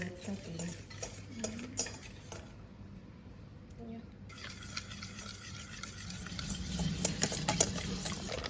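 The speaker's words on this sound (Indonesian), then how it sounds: "Aduk hingga merata." Spoon stirring a dough mixture of Milo, water, egg yolk, flour and margarine in a bowl, with repeated scraping and clinking strokes of steady rhythm, fairly close and moderately loud, under quiet background noise.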